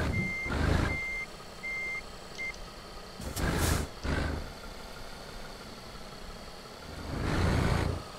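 A truck backing a trailer in Euro Truck Simulator 2, its reversing alarm sounding a series of steady beeps over an idling engine hum, with several louder engine swells and whooshes along the way.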